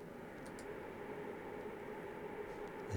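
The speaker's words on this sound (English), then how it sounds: "So I've just froze that reverb" A frozen reverb effect in Ableton forms a steady, dense drone texture, a continuous airy wash that holds level throughout with no breaks.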